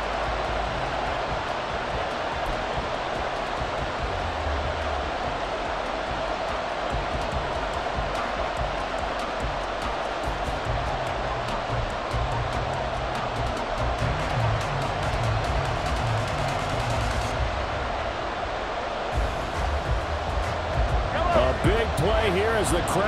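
Crowd noise in a Madden NFL football video game, a continuous stadium roar that swells slightly toward the end, with a few brief thuds and clicks over it.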